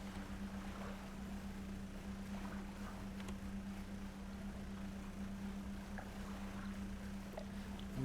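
In the video game Dredge, a fishing boat fitted with a bigger engine and a second engine runs at a constant low drone, with a soft wash of water around it and no voices.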